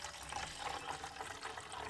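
Filtered water pours from a container into a TOAKS titanium 900ml pot, a soft continuous splashing trickle heard up close and fairly quiet, with no talking.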